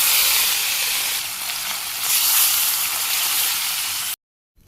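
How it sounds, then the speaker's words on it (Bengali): Fish frying in hot oil gives a steady, loud, close sizzle with a dense crackling hiss that runs unbroken for about four seconds before cutting off to silence. "তেল গরম হয়ে গেছে, মাছগুলো ভেজে নিই।"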